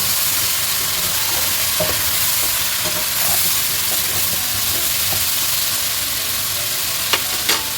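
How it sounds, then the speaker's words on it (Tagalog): Vegetables being stirred in a hot pan for a sautéed vegetable dish with coconut milk, a steady broad frying hiss with faint scraping clicks scattered throughout and a couple of sharper knocks near the end. "ilalagay na natin ang ating gulay. Tapos, haluin lang natin"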